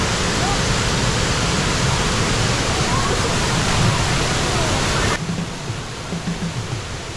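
Waterfall at a scenic falls in Tanay, Rizal, with clear water: a loud, steady broadband roar of falling water runs throughout, easing slightly toward the end.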